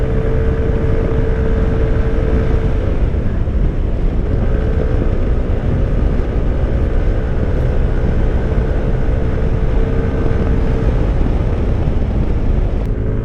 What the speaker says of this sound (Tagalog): Lakas sa ahon ng NMAX natin.